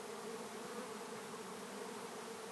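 A large swarm of bees buzzes densely and continuously around a person during a live swarm capture, a close, even drone with no pauses and no voices.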